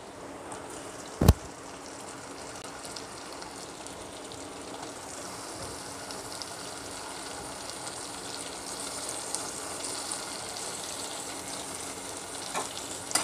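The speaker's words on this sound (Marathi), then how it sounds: "टमाटर व्यवस्थित असं परतून घ्यायचं आहे" Tomatoes sautéing with fried onion in a pan give a steady, soft frying sizzle with faint stirring throughout, plus one sharp knock near the start. Nobody talks.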